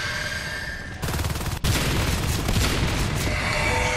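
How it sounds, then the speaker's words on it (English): Marines in the video game Natural Selection 2 fire sustained automatic gunfire at an alien hive. The rattling volley is loud and continuous and thickens into heavier, denser shooting partway through. "Shoot that hive and nothing but the hive."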